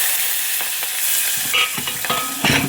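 Steady hissing sizzle of mustard seeds spluttering in hot oil, with small crackling pops and a few brief spatters, close and continuous, no voices.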